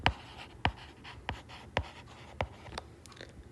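Pen writing by hand on paper while working a Class 9 math problem, heard as a series of sharp, close scratching strokes spaced roughly every half second, with no talking over them.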